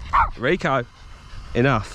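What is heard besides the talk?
dog barking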